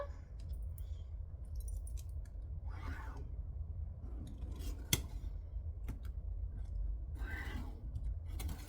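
Scissors cutting a paper sewing pattern during a pattern alteration, a series of close, crisp snips spaced a few seconds apart over a low background hum.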